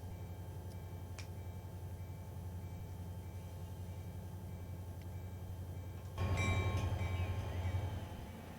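Freight train in Run8 Train Simulator rolling along the track, a steady low rumble with rhythmic wheel clicks that swells louder near the end as heavier cars pass close by.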